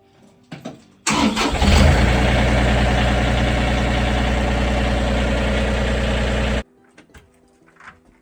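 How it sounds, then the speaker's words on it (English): An engine cranks and catches after refuelling, then settles into a loud, steady idle for several seconds before cutting off abruptly, with faint sounds around it. "Put the fuel cap back on and start it up and let it circulate the system a little bit."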